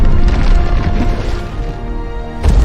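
A bomb explodes inside a monster in a superhero film, a loud, dense rumbling blast with crunching debris that slowly fades before a second heavy burst near the end.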